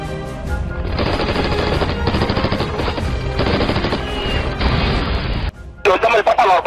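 Automatic gunfire erupts in long, rapid bursts during an ambush firefight at the Al-Barth outpost, loud and close, with sharp cracks and a short pause before more shots and shouting voices near the end.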